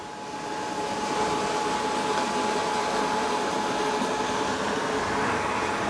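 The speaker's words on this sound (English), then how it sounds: "Doesn't seem like it's vacuuming as it's going home, but maybe it is." A Roomba Combo Essential robot vacuum hums steadily as it drives back toward its dock, a constant close whir with a faint tonal whine and no speech.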